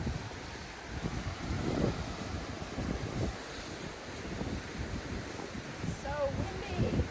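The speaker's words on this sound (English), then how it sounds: "So windy." Strong wind gusts across a boardwalk on the shore of Lake Superior, buffeting the microphone with a steady rushing roar and rumbling surges, surf faintly beneath.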